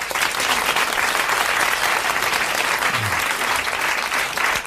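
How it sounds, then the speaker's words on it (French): A French television studio audience from 1982 applauds in a steady, full round of clapping that holds evenly throughout. "Vous applaudissez Monsieur Clède du Chanet."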